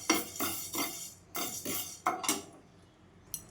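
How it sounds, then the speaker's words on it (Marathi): Fenugreek seeds roasting in a pan, with a utensil scraping and stirring in several distinct strokes spaced by short pauses, close and moderately loud, with no talking. "आता मेथी दाणा हे पण छान भाजून घेते।"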